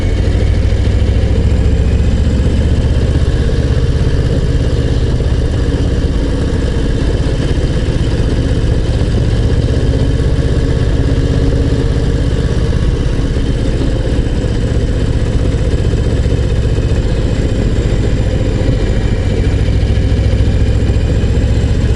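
Harley-Davidson Low Rider ST motorcycle engine runs continuously, a steady low rumbling drone close by that holds constant for the whole stretch with no talking.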